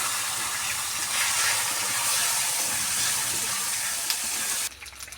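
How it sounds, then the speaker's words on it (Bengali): Potatoes dropped into hot oil seasoned with cumin and bay leaf set off a loud, bright hiss and sizzle that holds steady, then cuts back abruptly near the end. "আমি আলুটা ছেড়ে দিলাম"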